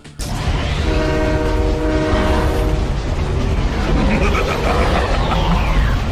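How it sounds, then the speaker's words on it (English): A subway train in the PS1 Spider-Man video game roars loudly and continuously, with a sustained horn blast early on and a steady rumbling clatter throughout. "Venom shows up out of nowhere and knocks Spider-Man off the subway train"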